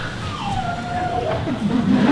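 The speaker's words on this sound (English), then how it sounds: "That's actually my dog." A dog whimpering and howling in the background of a talk, a thin rising and falling wail drawn out over a couple of seconds above a low steady room noise.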